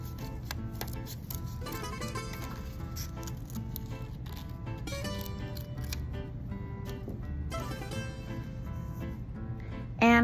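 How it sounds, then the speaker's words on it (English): Scissors snipping through folded construction paper, a series of short crisp cuts in irregular bursts, close and fairly quiet, with a soft thud at the end. "now I can put my scissors in there"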